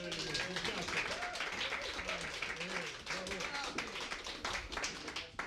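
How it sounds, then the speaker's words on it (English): Audience applause at a London shochu and awamori competition in a hotel, a steady dense clapping from a crowd for over five seconds, with a voice speaking over it. "Big applause for him because it's the very first ever competition"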